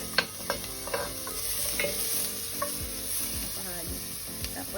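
Ginger frying in a little hot oil for chicken adobo in coconut milk, a steady close sizzle with spatula stirring and scraping clicks throughout, no voices.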